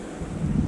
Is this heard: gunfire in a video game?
no